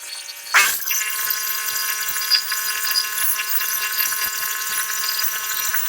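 A Norwood HD36v2 sawmill cuts a full plank from a large pine log, beginning with a sharp attack and then holding a steady, loud, high-pitched whine and hiss of the blade throughout, with no talk.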